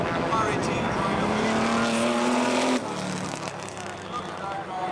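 Ferrari Formula 1 car speeding past at a 60th anniversary demo run, a rising high-pitched engine whine that cuts off abruptly as it passes, loud over steady crowd noise with a commentator talking throughout.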